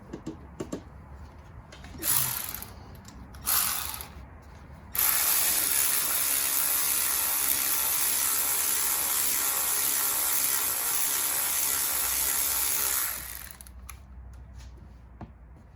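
A hand ratchet clicks as it tightens the bottom bolt of an alternator on a 2006 Toyota Camry 2.4, two short bursts followed by a long steady run of rapid close clicking that eases off at the end.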